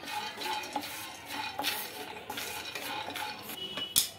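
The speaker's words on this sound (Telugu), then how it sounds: "ఫస్ట్ ముందుగా పల్లీలు అయితే వేయించుకోవాలి కొద్దిగా దూరగా" Peanuts dry-roasting in a pan while being stirred, a busy rattle and scrape of nuts and utensil with light sizzling, close and moderately loud, ending in a sharp metallic clack.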